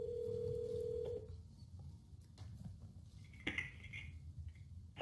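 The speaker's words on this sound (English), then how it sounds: "My Mac's going to actually make a speakerphone call through my phone." An iPhone speakerphone call placed from a Mac starts with a steady dial tone, then short tonal blips and a brighter electronic chirp follow against a quiet room background.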